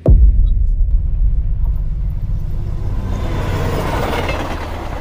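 A train rolls past with a sharp start, then a loud, steady low rumble and rattle of wheels and carriages that slowly spreads into a broader roar.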